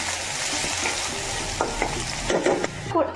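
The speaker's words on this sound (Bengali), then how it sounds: "এখন বেশ কিছু পেঁয়াজ কুচি দিয়ে লালচে করে ভেজে নেব।" Chopped onions fry in ghee with whole garam masala for a mutton curry: a close, continuous sizzle with scraping stir strokes, and no voices.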